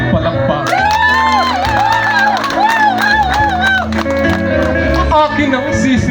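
Audience applause and cheering at a Flores de Mayo club gathering, a dense crowd clapping under a voice speaking and singing over music throughout.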